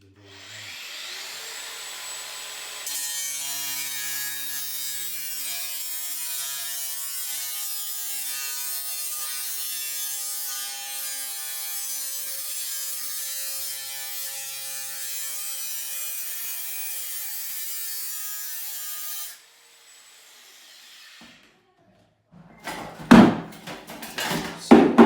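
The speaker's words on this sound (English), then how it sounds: "In this case I'm going to use the angle grinder." Angle grinder cutting through a metal flue pipe, a loud, steady high-pitched whine with a harsh rasp, running continuously for about sixteen seconds before spinning down, followed by a few clanks and knocks.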